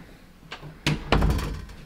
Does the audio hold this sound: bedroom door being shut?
yes